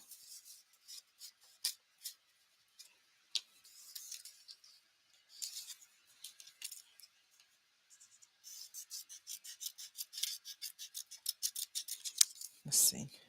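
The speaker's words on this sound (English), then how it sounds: "If not, I'll have to fussy cut it. Shape a cloud." Scissors fussy-cut a cloud shape from paper for card making, heard as close, crisp snips and rustles in scattered bursts, then a quicker run of steady cuts.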